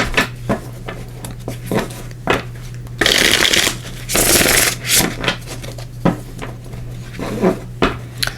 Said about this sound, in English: We're also going to pull cards here from the Tarot of Dragons